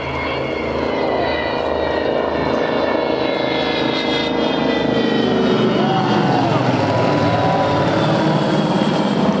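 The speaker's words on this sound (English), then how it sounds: "the Vulcan will run in to commence its display" The Avro Vulcan XH558 delta-wing jet bomber roars steadily past at an air display at the Shuttleworth Collection, a loud sustained engine drone with shifting tones and no talk over it.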